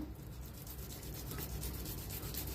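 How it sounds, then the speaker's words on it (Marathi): Boiled potatoes are grated for aloo paratha, making a soft, rhythmic rasping scrape close by that repeats evenly, faint and without talk. "इकडे की नाही बटाटा आपण किसून घेऊया"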